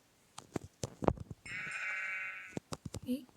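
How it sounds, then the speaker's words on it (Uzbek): Sheep bleating in the Minecraft video game: a sustained, wavering bleat sits in the middle of the clip, framed by short clicks and footstep-like game sounds before and after it. "Oh, qo'ylar."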